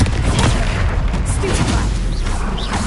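A Confringo fire spell explodes in a Hogwarts Legacy troll fight, a dense burst of booming blasts and crackling impacts layered over continuous battle noise.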